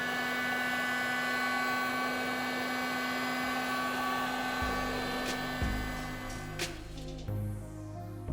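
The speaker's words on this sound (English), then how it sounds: "So you're gonna have to use a combination of a heat gun and dry ice." A heat gun blows a steady, loud, whooshing roar while stripping sound deadening from the interior of a BMW E46 M3. The tone shifts and thins partway through as the gun moves or is pulled back.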